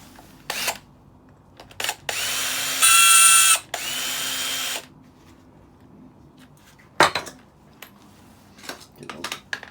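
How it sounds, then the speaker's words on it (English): The top cover comes off a heavy duty decking light being scrapped: close, sharp clicks and knocks, followed by a loud, steady whirring burst of a powered screwdriver or drill lasting about two seconds, then more scattered clicks. "And remove the top cover."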